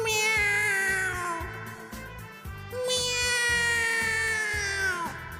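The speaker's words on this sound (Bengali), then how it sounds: "এ তো ম্যাও ম্যাও শব্দ আসছে।" A cat meows repeatedly in a cartoon scene, drawn-out tonal cries with falling pitch, close and loud, over a steady rhythmic music bed.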